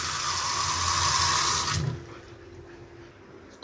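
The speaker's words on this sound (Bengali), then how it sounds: "আর বেশ স্পিডে জলও পড়ছে" A new kitchen tap runs fast, a strong close rush of water for about two seconds that then cuts off, leaving a quiet room and a short knock at the end.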